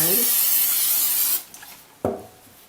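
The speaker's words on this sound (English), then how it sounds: "I'm going to spray this real good inside" Broadband spray hiss for over a second inside a hypertufa mold, then cuts off, followed by a brief knock and a few quieter rustles.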